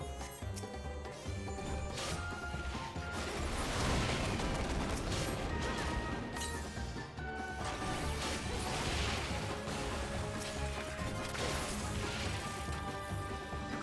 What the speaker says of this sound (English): But they shatter the barrier